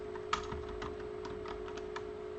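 Quick, steady keystrokes on a QWERTY computer keyboard, close and clear, a short run of typing with a faint constant hum underneath.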